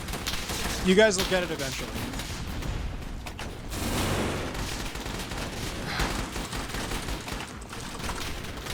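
Sustained gunfire from the online shooter game Sector Wars during a large human war battle, dense overlapping shots and bursts rattling throughout, with a person talking over the action.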